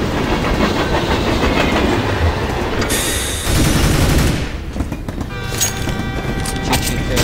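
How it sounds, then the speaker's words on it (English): A train rumbles past in Counter-Strike: Global Offensive co-op missions, a steady loud clatter lasting several seconds that shifts partway through, with faint gunfire-like sounds mixed in. "Choo-choo train."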